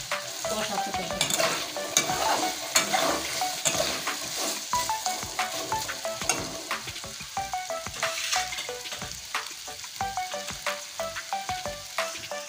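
Gathi kochu taro root frying and being stirred in a pan, a steady close sizzle broken by repeated scraping stir strokes throughout, with no talking.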